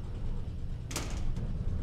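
A sliding door rolls shut in Trans-Siberian Railway Simulator, a short whoosh and thud over a steady low rumble of the train in winter.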